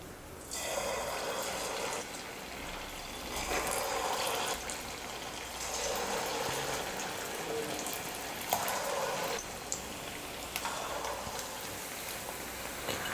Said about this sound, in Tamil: கொஞ்சமாக மாவு எடுத்து சின்ன உருண்டைகளாக எண்ணெயில் போட்டுக்கலாம்.